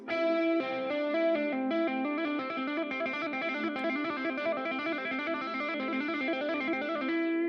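A fast 80s-style legato guitar pattern runs over an A Dorian vamp, with smooth, continuous streams of notes through a distorted, chorus-tinged tone, played close and steady for about seven seconds without talk.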